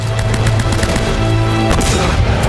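Rapid gunfire fills the scene in Uncharted: Drake's Fortune, a dense, loud, continuous stream of shots layered with game music and effects, with no voices over it.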